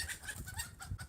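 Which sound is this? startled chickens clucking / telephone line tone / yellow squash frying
startled chickens clucking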